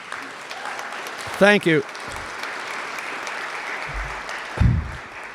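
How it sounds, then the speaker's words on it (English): An audience at an awards celebration breaks into steady applause that carries through the whole moment, while a brief word of thanks is spoken over it and faint voices come and go. "she deserves an applause"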